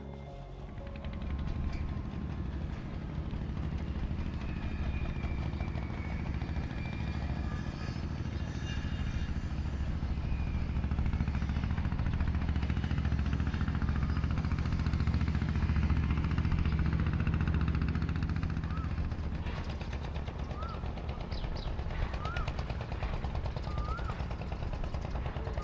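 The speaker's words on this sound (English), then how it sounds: "There's a boat coming." A motorboat passes by on the water, a low continuous engine drone that stays steady and fairly close throughout, with faint higher chirps appearing near the end.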